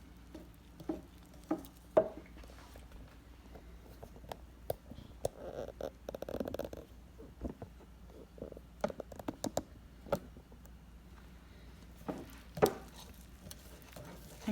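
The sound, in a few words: dough whisk mixing pizza dough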